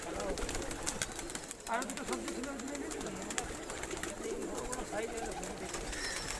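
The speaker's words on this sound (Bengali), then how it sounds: "কত পায়রা এখানে দেখো," Pigeons at a house packed with many kinds of birds, including foreign breeds, coo in soft repeated bursts throughout, with wing flutters and a steady background of other birds.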